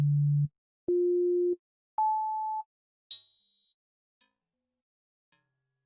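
A synthetic scale of seven equally divided pitches climbs in steep, out-of-tune steps, each a clean electronic beep held briefly and separated by short silences, ending on a very high thin tone.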